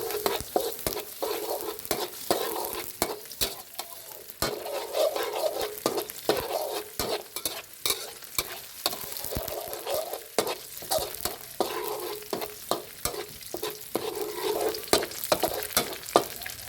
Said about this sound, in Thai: จากนั้นก็ใส่กระเทียมสับลงไปผัดให้หอมก่อนครับ